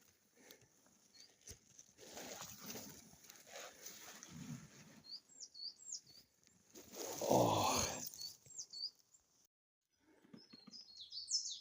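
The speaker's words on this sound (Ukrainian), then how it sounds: "Почали якісь пташечки співати." Faint, high bird chirps come and go at a distance, mixed with rustling and shuffling close to the microphone and a brief quiet gap.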